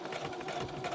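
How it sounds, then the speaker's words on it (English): A sewing machine runs fast, giving a continuous rapid whirring and mechanical buzz that stays steady and close throughout the brief moment, with no talking. "I had my machine going super quick earlier."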